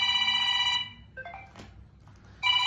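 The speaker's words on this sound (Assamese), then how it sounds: "বিষ্ণু ফোন কৰিছে।" A phone rings in an electronic trill that stops for a pause and then starts again, clear and moderately loud, with no one talking over it.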